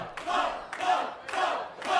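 A crowd at the LA Poker Classic poker tournament roars in three or four rising and falling bursts of cheering and shouting, close and fairly loud.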